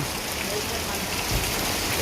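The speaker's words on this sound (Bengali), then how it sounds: "এখন বৃষ্টি হচ্ছে, মুষলধারা বৃষ্টি হচ্ছে।" Torrential rain pours steadily over an empty village market in a dense, unbroken hiss, loud and close, with no pauses.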